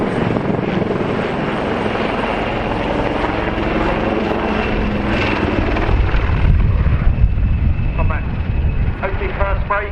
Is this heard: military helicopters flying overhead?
yes